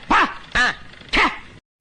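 A dog barks three times, loud and close, in sharp evenly spaced woofs followed by brief quiet.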